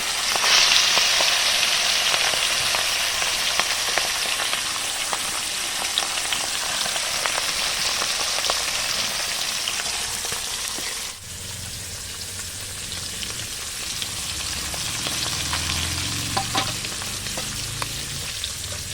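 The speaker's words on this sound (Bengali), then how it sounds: "কড়াইতে তেল দিয়েছি, তেল গরম হয়ে গেছে। এবার মাছগুলি আমি অল্প অল্প করে ভেজে নেব।" Pieces of scaleless pangas fish fry a few at a time in hot oil in a wok, a loud, continuous close-up sizzle and spatter that briefly dips before settling back into a steady crackle.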